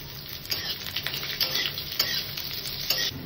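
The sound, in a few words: chopped onions added to hot oil, sizzling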